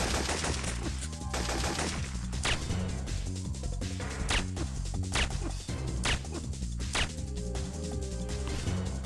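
Gunfire crackles through a Syphon Filter firefight, sharp repeated shots and impacts layered over a loud, pulsing game music bed, dense and continuous with no clear gaps.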